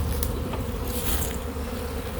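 A honeybee swarm settling in a fir tree, a dense, continuous buzz of many bees close by, loud and unbroken with no talk.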